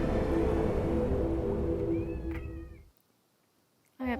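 A cat gives a few drawn-out meows over a loud, droning background that suddenly cuts out, leaving near silence before a brief, sharp sound at the end.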